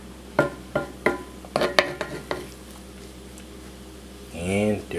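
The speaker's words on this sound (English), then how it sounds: "just stir it up" Ground beef stirred with a utensil in a pan for a taco mac and cheese, giving about eight sharp scraping strokes in a quick uneven rhythm, close and clear, followed by a steady low sizzle with a brief voice near the end.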